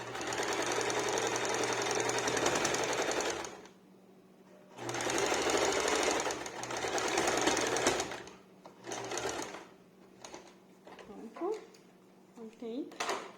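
A domestic sewing machine stitches a fabric seam on a multipurpose bag or bread holder, running in two long steady bursts separated by a pause, then a few short starts and handling clicks near the end.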